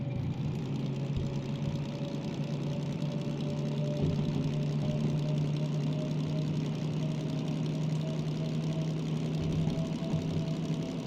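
A DM3 diesel-hydraulic locomotive in the Derail Valley train game runs steadily, its engine holding a constant low drone with a droning harmonic hum throughout, loud and close with no talk.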